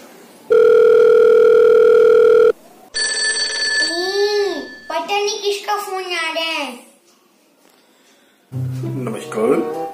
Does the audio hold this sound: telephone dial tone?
yes